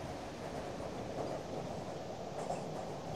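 A train rumbles steadily along the track, a dense continuous low roar of wheels and carriage noise heard close by with no one talking.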